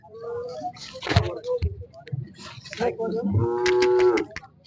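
Bulls at a cattle market in Ghoti, bought for farm work, one giving a long low moo near the end while people talk nearby amid scattered market noise.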